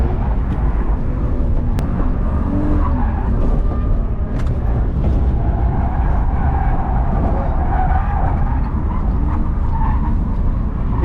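A street-style BMW E46 drifts at Santa Pod, its engine roaring loudly and steadily while the tyres squeal and skid, the noise constant and close throughout.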